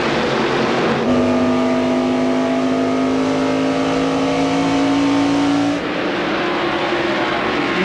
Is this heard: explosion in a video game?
no